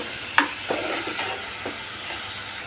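Vegetables sauté in a pan for veg pulao, a soft sizzle with a few sharp clinks and scrapes of stirring, close up and without talk.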